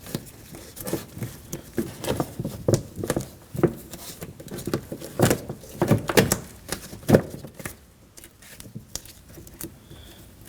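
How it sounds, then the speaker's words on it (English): Protective vapor seal being peeled from the inside of a 2015-2024 Ford Edge front door with the panel removed, giving a run of close, irregular crackling tears and pulls that fade into quiet near the end. "We can peel the protective seal on the inside of the door off."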